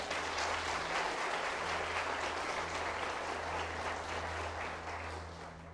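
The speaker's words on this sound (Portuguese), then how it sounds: "Dê um forte aplauso para o Senhor." Sustained applause from a church congregation, a dense steady clapping that fills the room at close to moderate distance, easing slightly toward the end with no voices on top.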